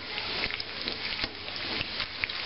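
Ends-and-pieces bacon sizzling in a pan, a steady crackling hiss with scattered sharp pops throughout, close and fairly even in level, no voices.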